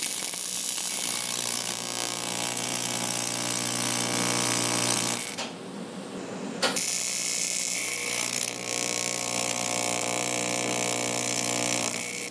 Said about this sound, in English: Now I'll just give a few tack welds between the clamp and the 90.